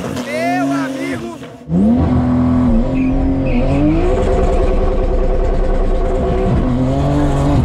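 A Porsche's tires spin and squeal against loose ground while the engine revs hard, a loud, sustained wail with rising and falling tones close by.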